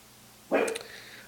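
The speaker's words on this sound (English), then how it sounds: "I don't know what Luna's barking at" A dog gives one sharp, excited bark at close range, with a brief trailing yip. The bark stands alone against quiet indoor background.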